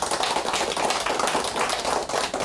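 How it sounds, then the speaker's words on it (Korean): Audience applause fills a Buddhist talk hall, a dense burst of many hands clapping steadily for a couple of seconds, fairly close and loud, with no voices over it. "먼저 뜨거운 박수 한번 주세요."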